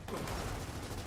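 A short, rapid burst of gunfire from Gears of War 4, packed into about a second, fairly faint and dense like a fusillade.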